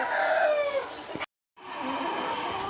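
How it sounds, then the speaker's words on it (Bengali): Chickens cluck and a rooster crows at evening feeding time on a cold winter day, with a brief silent gap in the middle before the fowl noises resume, close and fairly loud. "সন্ধ্যা হয়ে গেছে তো মুরগিকেও খেতে দিয়েছি"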